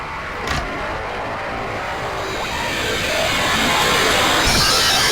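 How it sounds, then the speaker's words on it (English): The Blitz entity in the Roblox game Doors rushes through, a loud sustained roaring, whooshing rumble that swells steadily louder over several seconds, with a brief sharp burst near the start. "Make sure to wait for Blitz's sound to end before progressing."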